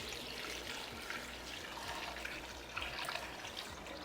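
Almost a gallon of water is poured into a pot over fresh mint and a tea bag for French mint tea. The pour is a steady, continuous splashing rush with no pauses.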